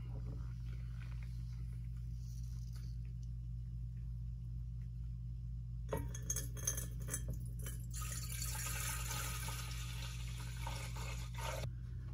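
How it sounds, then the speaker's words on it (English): A solution from a silverplate copper-cell silver recovery pours and splashes into a glass beaker after a quiet start, with a steady low hum running underneath throughout. "we'll pour off our solution into this other beaker here"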